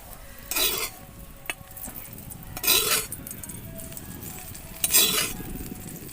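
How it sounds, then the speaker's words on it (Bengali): Oil sizzles steadily in a pan with green chillies and garlic frying, while three short bursts of stirring and utensil scraping rise above it, spaced a couple of seconds apart. "কাঁচা লঙ্কা রসুন ভেজে নেওয়া হয়ে গিয়েছে, তুলে নেব"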